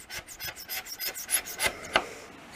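A sharp razor scraper rasps across a 1950s formica table top in a quick series of short, close strokes, with a brighter catch near the end as the blade hits a small notch.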